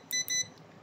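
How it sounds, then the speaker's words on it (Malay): A multimeter in continuity mode gives two short, quiet electronic beeps in quick succession while testing a thermal fuse. "untuk check thermal fuse pastikan multimeter dalam mode buzzer"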